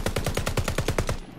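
Rapid automatic gunfire from the KG M40 and Whitley in Call of Duty Vanguard/Warzone, a loud, close, steady burst of about a dozen evenly spaced shots with no talking.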